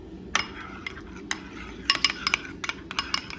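A metal spoon clinks against a bowl while stirring oil, colour and biryani masala into a few spoonfuls of yogurt, giving light irregular taps and scrapes, close and fairly quiet, clustered in quick bursts toward the end.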